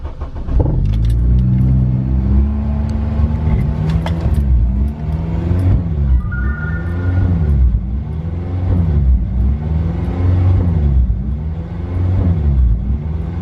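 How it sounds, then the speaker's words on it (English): A Honda EP3 idling at a standstill with a faulty idle air control valve, its revs rising and falling in a steady surging cycle, loud and close with a continuous low engine drone throughout. "this is what happens every time the car is at idle when I'm not moving"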